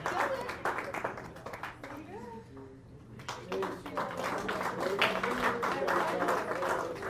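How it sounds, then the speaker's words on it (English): Applause and scattered clapping from a curling crowd as the Siggins team leaves the ice after a mixed championship game, sustained at moderate distance with talk mixed in. "applause for Siggins as they come off the ice"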